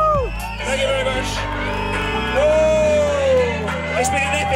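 Crowd at a fancy dress ski event in Bansko, Bulgaria, shouting, whooping and cheering loudly and continuously, with hooting, whistle-like cries rising above the din.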